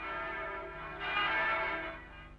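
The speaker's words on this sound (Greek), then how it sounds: "σίγουρα οι καμπάνες που χτυπούσανε γιόρταζαν τη δική μου νίκη" Church bells ring out in a steady, overlapping peal of sustained metallic tones, moderately loud and swelling slightly partway through, with no voices.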